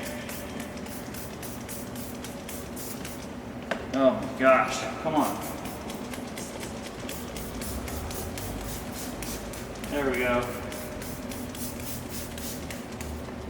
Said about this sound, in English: So we're gonna spray it.